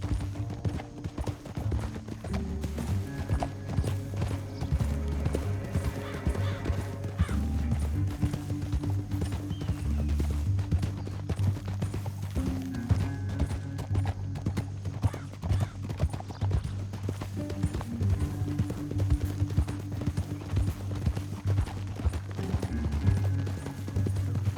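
Horse hooves clip-clop steadily in Red Dead Redemption II, a continuous rhythmic trotting close by, with a game soundtrack and ambience running underneath for the whole stretch.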